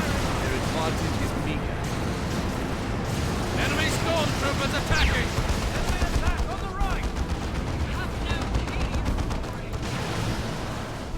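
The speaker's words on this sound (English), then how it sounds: "Manticore barrage onto the Brother Captain" Manticore missile barrage raining down in a Dawn of War 2 match, a dense, continuous roll of overlapping blasts and gunfire at steady high loudness, with a commentator talking over the battle.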